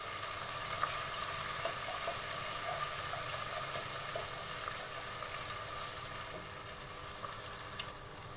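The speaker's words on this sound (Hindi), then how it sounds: "जी लहसुन अदरक का पेस्ट 1 मिनट के लिए हम फ्राई करेंगे।" Garlic-ginger paste fries in a pan for a chicken keema and cabbage dish, a steady soft sizzle holding even throughout with faint scattered crackles.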